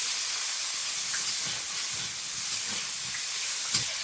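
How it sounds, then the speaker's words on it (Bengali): Potatoes with chopped onion sizzle in hot oil in a kadai, a loud, steady, close hiss that runs unbroken from start to finish with faint spits on top and no talking. "কড়ার মধ্যে আর একটু তেল দেবো একটু পেঁয়াজ কেটে কুচি এর মধ্যে আলুটা দিয়ে দেব"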